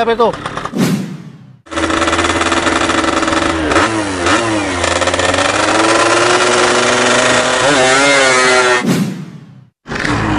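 A tuned motorcycle engine being readied for racing revs hard, holding loud, rising and falling engine roars for several seconds between brief bursts and a sudden cutoff, close to the listener.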